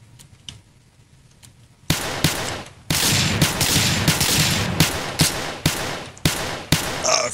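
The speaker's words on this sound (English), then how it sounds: "Oh, he shot me." Gunfire in the Project Zomboid survival game: a few faint distant shots, then a loud burst of repeated sharp gunshots fired in a rough rhythm, close and echoing.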